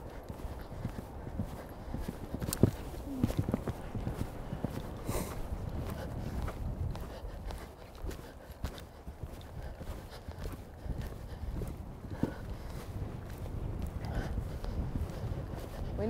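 Horse hooves cantering in a showjumping arena during a training session for retraining racehorses, steady rhythmic thuds on a soft surface continuing throughout, moderately close with faint background noise.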